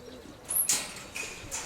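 Soft pigeon coos repeat several times close by, with faint chirps and light background noise between them.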